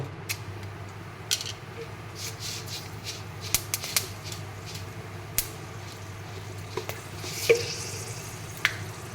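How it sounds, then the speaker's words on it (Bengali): Whole spices (cinnamon, cardamom and cloves) frying in mustard oil in a wok, a low steady sizzle broken by scattered sharp pops and crackles, close and moderately quiet, without talk. "কড়াইতে দিয়ে দিলাম আর একটু সর্ষের তেল, তারপর দিয়ে দিচ্ছি গোটা গরম মশলা"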